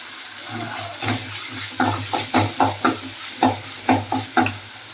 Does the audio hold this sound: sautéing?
yes